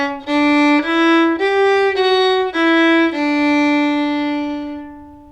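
Solo fiddle plays the last phrase of the B section of Flop-Eared Mule, a short run of clear bowed notes in steady rhythm ending on a held, fading note, close and alone.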